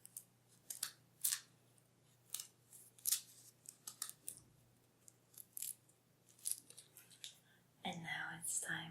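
Scissors snip through folded paper while a snowflake is cut, giving a run of short, crisp cutting strokes in an irregular rhythm, close and fairly quiet, with a rustle of paper handling near the end.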